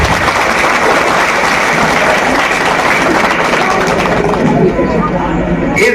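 Dense, loud applause from villagers in Jarauli, Charkhari, clapping for the police captain, steady throughout with a faint crowd murmur underneath.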